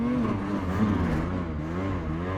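Ski-Doo Summit 850 E-TEC Turbo snowmobile engine running steadily near the rider on a deep-snow trail, a continuous buzzing drone with slight pitch swells throughout.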